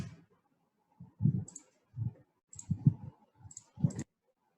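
Computer mouse buttons clicking during a demonstration of BOM creator software, sounding as a handful of separate, sharp clicks spaced about a second apart, close and fairly quiet, with no voices.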